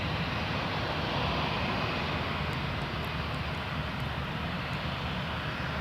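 Air Transat airliner taking off from runway 23 at Toronto Pearson Airport, a loud, steady jet engine roar with broadband rumble that holds evenly throughout, with no voices.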